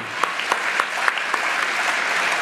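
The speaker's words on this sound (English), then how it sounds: "What are they clapping for?" The White House press corps breaks into applause in a briefing room, a room full of hands clapping steadily at moderate loudness, with a few sharper individual claps standing out.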